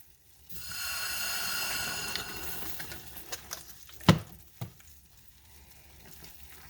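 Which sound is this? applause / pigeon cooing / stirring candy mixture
stirring candy mixture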